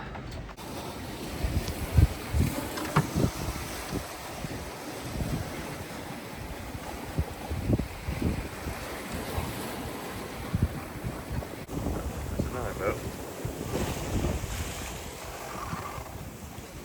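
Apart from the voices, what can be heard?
ocean waves and wind around a 28ft sailboat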